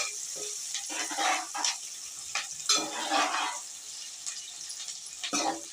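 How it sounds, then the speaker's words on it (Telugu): Onions frying in a pan for a Sunday chicken curry, stirred now and then, with scraping strokes and bursts of sizzle over a quiet background and no talk. "ఇవి కలుపుకొని మంచిగా ఎర్రగా వేగినాక అల్లం పసుపు వేసుకుందాం."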